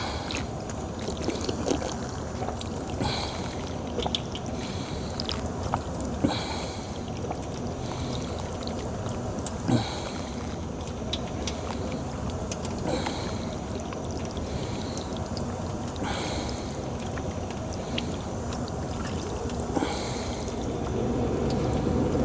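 Water poured for drinking before an arm workout, a long continuous gurgling, splashing pour with fluctuating flow, close and steady throughout with no talk.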